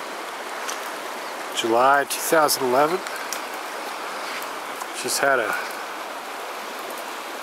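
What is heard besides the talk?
Smith River flowing after thunderstorm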